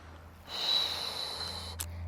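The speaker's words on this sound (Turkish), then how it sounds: "Nefes alıyorum karşıya doğru." A deep inhale through the nose during a pregnancy stretching exercise outdoors, a soft rushing breath rising and holding over a steady low hum, with a brief sharper puff near the end.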